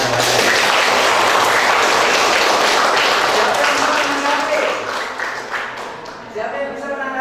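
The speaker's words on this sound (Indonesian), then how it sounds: "Iya, kasih tepuk tangan." Loud, dense applause from students in a classroom, sustained for several seconds before thinning out, with voices starting to talk as the clapping fades at the end.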